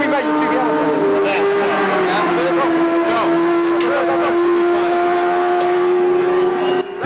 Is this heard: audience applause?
no